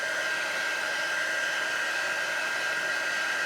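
A hot-air heat tool blows on a baby wipe to shrink and curl it, giving a steady, close, unbroken whooshing roar with a constant high whine.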